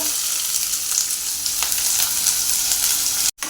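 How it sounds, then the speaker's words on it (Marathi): Chopped onion sizzles in hot oil in a kadhai for a dried-fish curry, giving a steady, close, continuous hiss with no voices until a brief cut at the very end. "तेल चांगलं गरम झालं ह्याच्यामध्ये टाकून घ्यायचा आहे कांदा"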